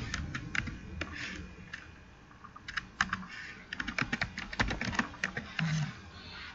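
Typing on a computer keyboard while entering an assignment name: close, irregular runs of crisp key clicks with short pauses between bursts, no voices.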